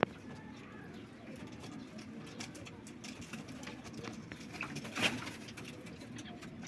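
Pigeons coo softly in a loft on a hot day, a low murmuring flock sound under steady background noise, with faint fluttering and a brief louder rustle.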